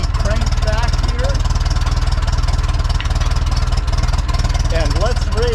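A vintage Ferguson tractor engine idles close by with a steady, heavy low-pitched chug throughout, while a voice talks over it.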